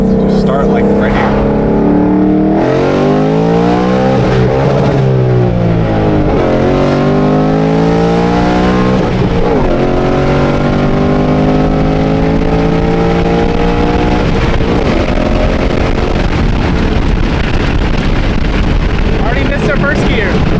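A Ford Mustang S650 running on E85 fuel accelerates hard through the gears, its loud engine note climbing in rising sweeps broken by shifts, heard from inside the car with voices talking over the roar.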